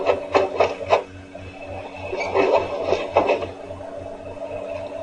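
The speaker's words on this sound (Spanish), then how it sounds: "Impresión rápida, ¿no?" A printer runs through a quick print job in a printmaking workshop, giving rhythmic mechanical passes and whirring bursts close by, with no voices.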